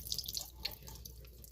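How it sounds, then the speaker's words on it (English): Water drained from canned green beans trickles and splashes faintly into a sink, with small drips and a thin pouring stream. "with these canned green beans, I always pour that water off of it"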